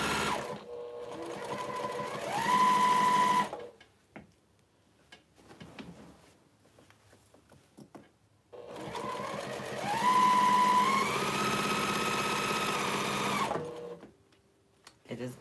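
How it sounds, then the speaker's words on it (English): A sewing machine back stitches along a quilt's binding in two sustained runs of a few seconds each, with quiet handling and a pause between them. "I'm lining up my stitches where from where I left off. I'm going to back stitch."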